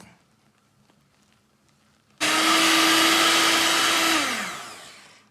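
Electric hand mixer whipping cake batter, starting abruptly after a quiet stretch with a loud, steady high-pitched whir that holds for about two seconds before winding down as it switches off. No voice is heard.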